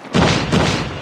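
A grenade blast in Call of Duty Mobile during a team deathmatch, a loud, close boom that rolls into a noisy, rumbling decay.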